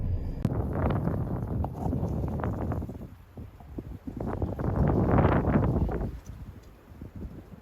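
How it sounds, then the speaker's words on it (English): Outdoor wind buffeting the microphone beside the Lariat Loop Scenic Byway near Lariat Bear Park, heavy low rumbling gusts that rise and fall in two long surges with a brief lull between them. "Try and talk over the wind."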